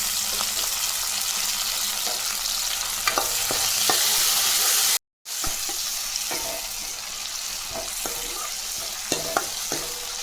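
Curry leaves and tomato sautéing in a pan for a lentil curry, a steady close sizzle with scattered stirring scrapes, briefly cut to silence midway, then frying resumes.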